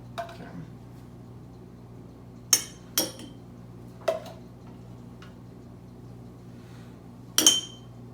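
Homemade mayonnaise spooned into a clean glass jar, with a few sharp, separate clinks of a spoon against glass spread across a quiet, low room hum.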